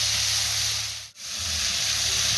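Spice paste of ginger and cumin frying in a pan hisses and sizzles steadily after water goes in, a broad close steam hiss with a brief dip midway, no voices.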